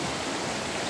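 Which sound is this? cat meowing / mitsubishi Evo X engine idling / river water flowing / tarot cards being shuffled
river water flowing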